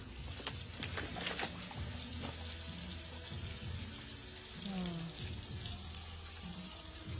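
Water splashes and gushes steadily as a dog is bathed, a continuous close wash of running and sloshing sounds with a voice briefly heard partway through.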